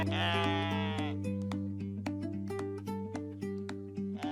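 A goat at a farm gives one near, wavering bleat at the start, then steady background music with plucked notes carries on with no further bleating.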